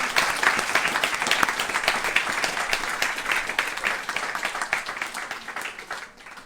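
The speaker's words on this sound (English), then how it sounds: "we should give her a big round of applause for creating" Dense, steady applause from a gathered audience of devotees at a spiritual talk, holding a constant level for about six seconds before tapering off at the end.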